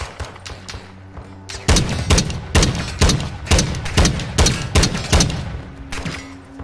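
Gunfire erupts in Call of Duty MW2 DMZ as a string of loud, punchy shots and short bursts fires in an uneven rhythm, with a quieter stretch first and then heavy, close firing.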